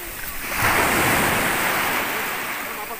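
Sea waves washing onto a beach in Mersin, a steady broadband surf wash that swells and holds for a few seconds, fairly close and loud with light wind.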